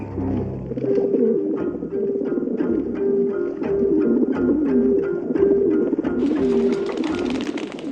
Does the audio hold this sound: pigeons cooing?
yes